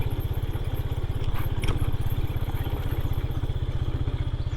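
A motorcycle engine idles steadily at close range while the bike is being parked near a dam in Mahiyangana, Badulla, Sri Lanka, giving a continuous low, even pulsing throb with no talk over it.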